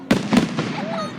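Two sharp firework bursts crack out close together near the start, followed by a fading rumble and a thin rising whistle as the smoke drifts, with no voices over it.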